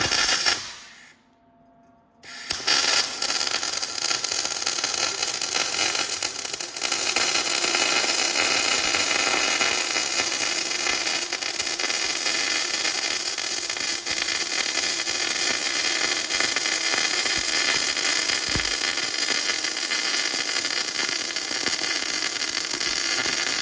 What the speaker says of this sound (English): I'm going to weld this bit